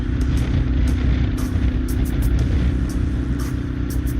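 Kawasaki KLR650 motorcycle engine accelerating to pass other traffic, a steady close rumbling drone under strong wind buffeting, holding level throughout without a clear rise in pitch.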